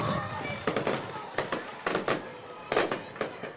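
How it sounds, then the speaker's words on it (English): Fireworks bursting outside during a varsity high school football game against Labette County, a run of sharp cracks and pops arriving in clusters at moderate distance over crowd noise and a voice. "Overabundant fireworks."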